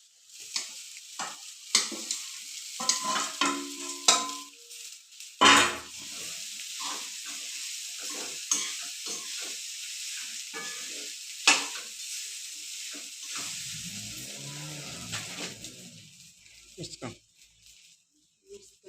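Sabudana for khichdi is stirred and fried in a pan, with close scraping stirs and a soft sizzle that come and go while someone talks throughout.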